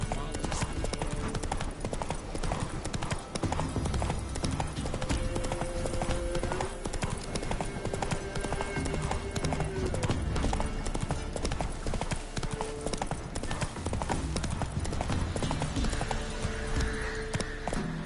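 Hooves clip-clop steadily at a trotting pace in Witcher 3, with a horse snorting now and then, under continuous game music and ambience while characters talk over it.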